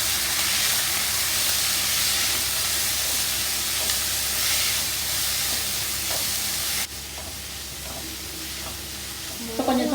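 Finely chopped onions frying in oil in a pan, a continuous close hissing sizzle with occasional stirring, quieting somewhat toward the end.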